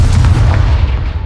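Confringo blasting spell explosion in Hogwarts Legacy, a single deep, loud boom that rolls and fades over about a second.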